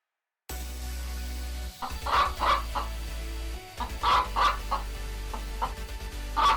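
A chicken clucks in a string of short, bright bursts in two clusters, close and fairly loud over a steady low hum, with no talking.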